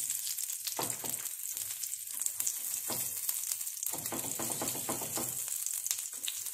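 Appam batter fries in ghee on a tawa, giving a close, steady sizzle broken by bursts of scraping and crackling as the pan is worked. No one speaks over it.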